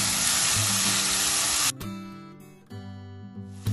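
Spices sizzle loudly in hot oil in a pan while being mixed for makhana dal fry with kitchen king masala, a dense steady hiss that cuts off abruptly, followed by quieter stirring and clinking.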